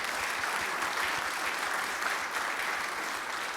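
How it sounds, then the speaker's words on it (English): A round of applause from the audience at a Rotary club meeting: steady, dense clapping close by, sustained at an even level for a few seconds with no talking over it. "And I think that deserves a round of applause."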